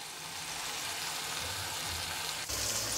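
Two onions frying in a kadai for Irani chicken kadai, a steady loud hiss of hot oil with a soft thump as they drop in and the sizzle swelling afterward.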